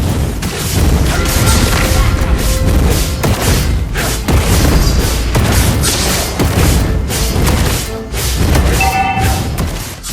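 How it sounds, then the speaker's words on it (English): Loud, dense Mobile Legends team-fight audio as the top lane's first turret goes down, with heavy booms and crashing impacts layered over continuous game music and effects, no pause across the stretch. "Since the top lane's first turret has been destroyed"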